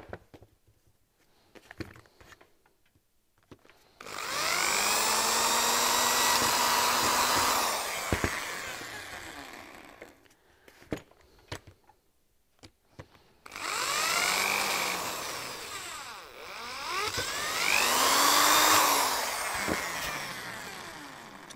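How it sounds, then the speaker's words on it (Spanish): A power tool drilling or sanding a wooden knife handle whines loudly in two long runs, its pitch shifting as it works, with quiet clicks and handling noises between bursts. "a la hora de taladrar o lijar este tipo de madera"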